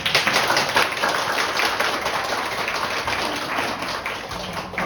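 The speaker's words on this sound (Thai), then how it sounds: "เราจะปรบมือกันค่ะ" A church congregation at Sunday worship claps continuously, a dense patter of many hands applauding together without a break.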